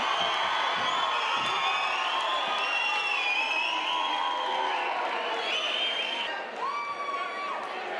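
Partisan Dungannon crowd cheering at the 2011 'Ruadh Rumble' fundraiser boxing event, a dense continuous roar of shouts and whoops across a large hall, with a few voices calling out above the steady noise.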